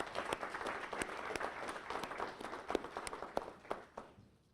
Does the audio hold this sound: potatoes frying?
no